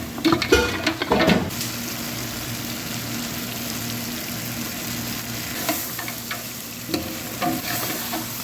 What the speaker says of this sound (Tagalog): Nilalagay na po natin yung beef. Tapos mix up na po natin.